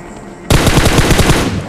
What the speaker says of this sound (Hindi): अब इधर पे एक फायर हुआ, मेरे को लगा ये भी बंदा होगा।